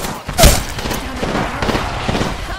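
Gunfire in the battle-royale game Apex Legends, Season 8: a loud close burst near the start, then a steady busy stream of further shots and action noise.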